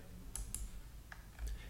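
A few quick, light computer mouse clicks, sharp and isolated, sound faintly over a quiet background hum in an indoor setting.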